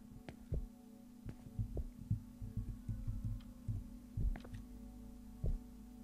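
Low, thudding heartbeat sound effect in the horror game The Convenience Store, irregular thumps over a steady electrical hum, moderately close and fairly quiet, with no speech.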